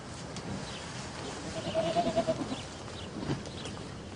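Goats bleat a few times in a wavering call midway, over faint background noise outdoors.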